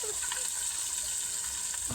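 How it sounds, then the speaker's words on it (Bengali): Fish fry in oil in a full, covered wok, making a continuous hissing sizzle broken by small pops and spatters, with a faint voice under it. "মাছগুলো না বেশ ফাটছিল,"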